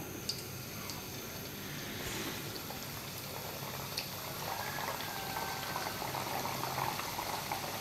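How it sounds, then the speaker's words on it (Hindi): Namak paray dough sizzles in hot oil with a steady, close, even bubbling hiss and faint crackles. No one speaks over it. "अब इसको तेल में डाल देते हैं आराम से।"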